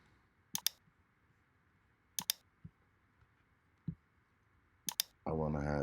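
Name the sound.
computer mouse clicking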